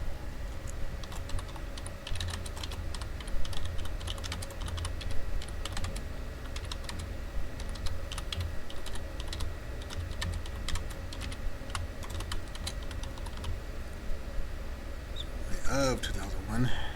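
Rapid, steady typing on a computer keyboard while entering slide text in a Microsoft PowerPoint exercise, close and continuous for most of the stretch with a few mouse clicks, ending in a brief burst of speech.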